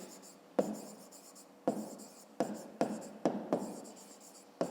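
A pen writes in a school math notebook with close, crisp scratchy strokes in short bursts separated by brief pauses, and there is no talking.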